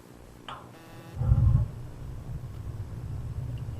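A water heater's gas burner igniting: a soft click, then a low whooshing thump as the flame catches, settling into a steady faint rumble of burning gas.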